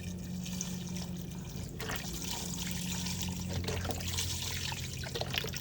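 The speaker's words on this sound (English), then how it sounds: "And now our vegetable broth, which we will need to cook our beans." Vegetable broth pours steadily into a pot of light red kidney beans with smoked turkey necks, a continuous liquid splash and trickle that holds for several seconds at close range with no talking.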